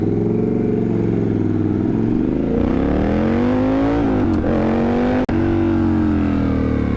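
A Triumph Scrambler 1200 motorcycle in sport mode revs hard and accelerates through the gears while lifting into a wheelie, its engine note rising and dropping loudly and close, with no talk over it.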